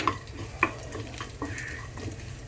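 Almonds and walnuts roasting over medium heat in a pan, a soft low sizzle with light stirring rattles and a couple of clinks.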